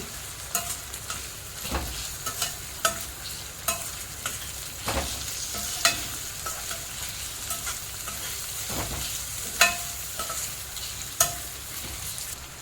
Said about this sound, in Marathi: हे बघा व्यवस्थित परतून झालेलं आहे